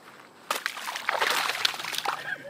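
A caught largemouth bass tossed back into a lake lands with a sloshing splash of water, followed by brief trickling and dribbling, heard fairly close with no talk over it.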